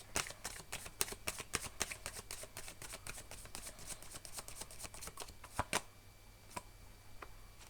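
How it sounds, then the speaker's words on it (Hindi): Tarot cards are shuffled in rapid crisp riffles, a quick series of sharp flicking snaps close to the microphone, then slowing to a few isolated taps as cards are drawn, under a low steady hum. "We need 2 more cards, और 2 कार्ड्स ले लेते हैं।"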